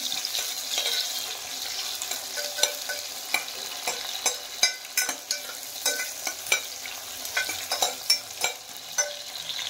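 Sliced onions and green chilies sizzle steadily in hot oil in a pan, with repeated sharp scrapes and clicks of a stirring spoon scattered over the continuous frying hiss.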